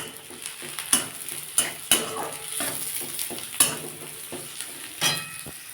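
Onions stir-fried in a pan with cumin powder and chopped green chilli for a Bengali tomato chutney: continuous sizzling broken by sharp, repeated scrapes and clinks of a spatula against the pan, close and fairly loud.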